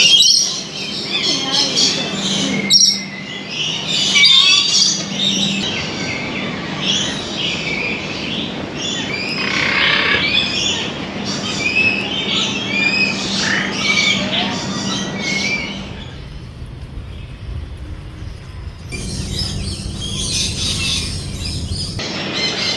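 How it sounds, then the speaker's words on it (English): Birds chirp and squawk in a Singapore park, a busy layer of calls over a constant mechanical rumble from passing traffic, with a few louder squawks standing out. "This section is filled with the sound of birds chirping and helicopters and a tourist bus."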